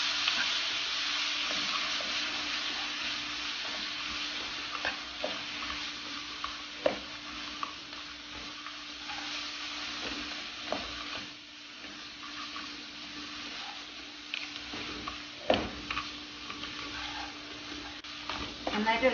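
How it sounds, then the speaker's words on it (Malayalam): A sauce mixture sizzles steadily in a frying pan for an Indo-Chinese dragon chicken dish as a spoon stirs it, with scrapes and knocks against the pan over the continuous frying hiss. "ഇനി ഇതെല്ലാം കൂടെ നന്നായിട്ട് ഇളക്കി കൊടുക്കാം"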